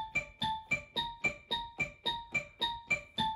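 A piano plays a bright, xylophone-like synthesizer tone for the intro riff of a song. Eleven short, evenly spaced plucked notes ring out close and clear, alternating between two pitches.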